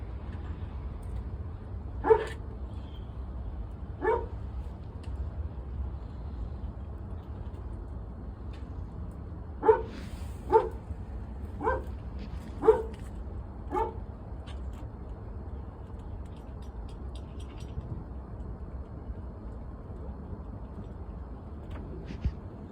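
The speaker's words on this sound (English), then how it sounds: "Oh, you're a big dog." A big dog barks at a house door: a single bark, then another a couple of seconds later, then a quick burst of five or six sharp barks, moderately close over a quiet indoor background.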